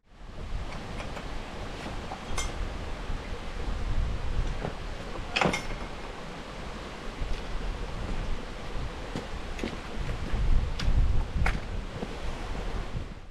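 Strong, gusty wind on the summit of Loughrigg Fell, a continuous roaring rush buffeting a muffled microphone, swelling and easing with occasional sharp thumps of gusts.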